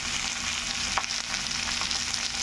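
Thinly sliced onions frying lightly in a pan give a loud, steady, close sizzle that runs unbroken from start to finish, with no voices.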